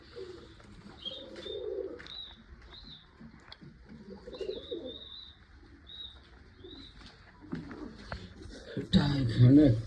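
Pigeons softly cooing and chirping while they feed in a loft with eggs and chicks, faint calls repeating under a quiet voice, ending with a louder rustle or flap of wings.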